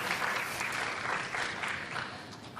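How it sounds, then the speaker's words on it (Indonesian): An audience at a new doctors' oath-taking ceremony applauds in continuous, dense clapping that stays steady and fairly distant across the hall. "tepuk tangan nggak apa-apa,"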